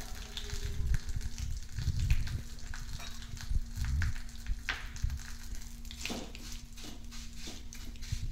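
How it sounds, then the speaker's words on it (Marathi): Vermicelli roasting in a pan over a low gas flame for kheer, a soft steady sizzle with occasional stirring scrapes and light taps, close but quiet, with a low hum underneath. "पहा इकडे शेवया भाजत आहेत कमी गॅसवर"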